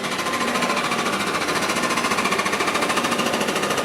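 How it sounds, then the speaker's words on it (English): Rapid steady pounding of jackhammering near a building in downtown Toronto, a dense continuous rattle heard up close at street level with no pause. "that's what's making that jackhammering noise."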